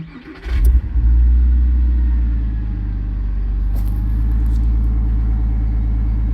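A Porsche Boxster engine cranks briefly with the key, catches, then settles into a loud, steady rumbling idle close by, with no voices.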